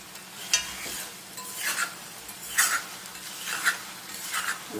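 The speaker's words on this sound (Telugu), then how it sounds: "కర్రీ నుంచి ఆయిల్ సెపరేట్ అయ్యే వరకు ఫ్రై చేసుకోండి" Mutton liver curry frying in oil in a pan and being stirred, with a steady soft sizzle broken by repeated scraping strokes of a spoon against the pan at a loose, regular rhythm, close up.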